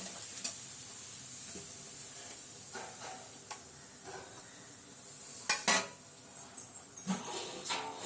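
Bitter gourd pieces hit a hot pan for a kuzhambu with a soft, steady hiss and sizzle, joined later by a scatter of louder stirring clatters and scrapes against the pan; no one speaks.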